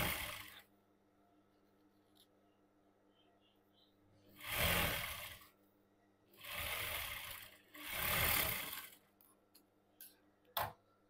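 A sewing machine stitches a cigarette pant in three short runs of rapid whirring, separated by quiet pauses, with a few small clicks at the end.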